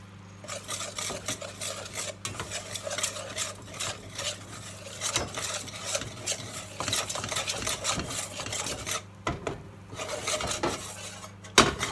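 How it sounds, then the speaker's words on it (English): Flour is whisked in a pan or bowl for a chicken pasta bake, a busy run of rapid metal scraping and clinking over a low background hum, with brief pauses; no talk. "And now you need to whisk it."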